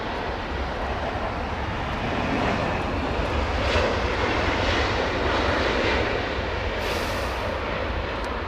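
A Boeing 777 jet at London Heathrow gives a loud, steady engine roar that holds throughout, close and continuous, with no voices.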